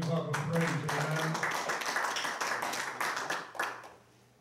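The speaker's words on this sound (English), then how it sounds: "Give the Lord a good hand clap of praise." A church congregation claps hands in a steady burst of praise applause, with a voice speaking over the start before the clapping tapers off.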